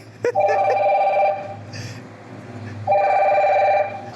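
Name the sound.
phone ringing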